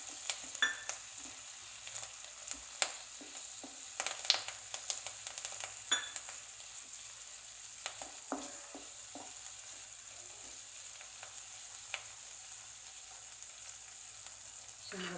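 Ridge gourd and chana dal curry with curry leaves cooks in a pan with barely any oil, giving a quiet, steady sizzle dotted with small pops and occasional utensil clicks, close and without voices.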